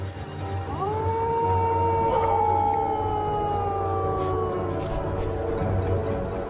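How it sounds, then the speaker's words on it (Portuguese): A wild dog out in hot country, where kangaroos are its prey, gives one long, loud, sustained howl that slides slowly downward and fades after several seconds, with a steady low hum behind it. "E este cão selvagem não está sozinho."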